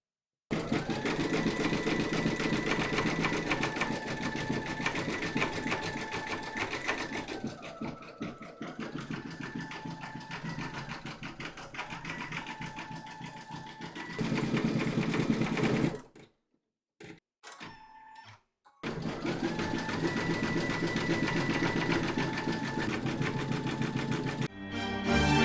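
An embroidery machine satin-stitches a round in glow-in-the-dark white thread for a Halloween kitty design, a steady fast mechanical whir that pauses briefly twice before resuming at a constant level.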